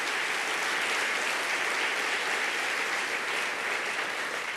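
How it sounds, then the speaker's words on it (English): Conference audience gives a steady, even round of applause, sustained and moderately loud from start to finish, with no talk over it. "she deserves a nice round of applause"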